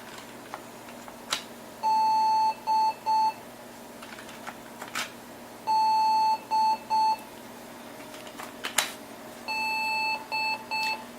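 A Macintosh Performa 640CD DOS Compatible gives a video-not-initializing error beep pattern: three bursts of a clear electronic tone, each one long beep followed by two shorter ones, repeating every few seconds over faint background hum.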